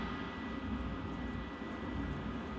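Piston fighter plane engine in a Birds of Steel low-altitude dogfight, a steady, loud droning roar running continuously without any break, with no speech over it.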